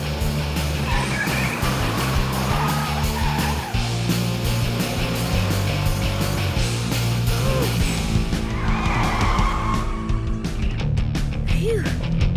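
A cartoon fire truck from Tonka Chuck and Friends revs and speeds off with a tire squeal. The engine roars steadily under busy background music for about twelve seconds.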